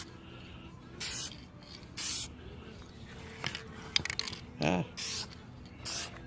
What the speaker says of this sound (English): now I'm going to apply the vinyl dye